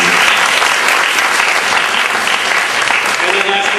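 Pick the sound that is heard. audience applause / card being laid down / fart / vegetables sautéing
audience applause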